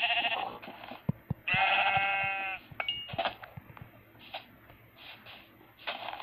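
A sheep in Minecraft PE bleats twice in drawn-out calls, followed by shorter, quieter bleats and sparse clicks of game play, with no talking.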